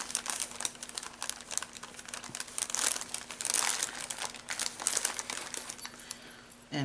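Ledger paper from a junk journal kit crinkles and rustles close up in dense, continuous handling noise, with a steady low hum beneath and no talking.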